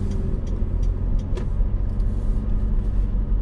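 Interior of a 2020 Mitsubishi Pajero Sport Exceed while driving, with a steady low engine and road drone and a few faint clicks, no talking.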